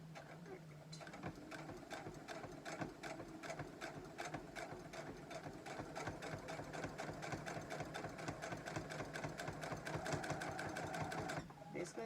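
A sewing machine stitching a shoulder seam on a tank top with a lengthened stitch, a fast steady mechanical whir of rapid needle strokes running close and continuous while someone talks over it.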